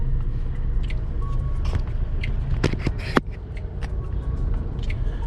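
A car creeps through a slow traffic jam on the road between Shillong and Guwahati, heard from inside as a steady low engine and road rumble with a few faint clicks and scrapes. No one speaks.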